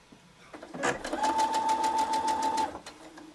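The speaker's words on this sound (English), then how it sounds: "now I'm going to go sew it. So let's get it sewn. And we're just doing a regular straight stitch." A sewing machine running a regular straight stitch on an appliqué piece, with a steady rapid needle clatter and motor whine lasting about two seconds, close and clear, with no talking.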